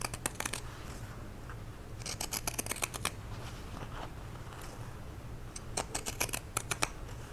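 Fabric scissors snipping around the stitching of a sewn bucket hat, crisp quick clusters of close blade clicks separated by quiet pauses, with a low steady hum underneath.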